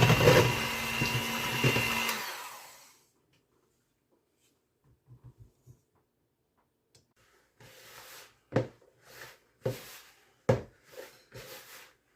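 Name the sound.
electric mixer mixing nut roll dough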